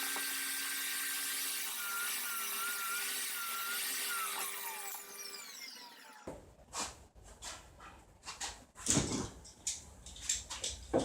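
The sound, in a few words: cutting pieces of wood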